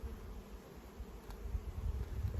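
A low, steady honey bee buzz hums throughout, dense and close, swelling slightly louder toward the end, many bees droning together around a hive with a newly introduced queen.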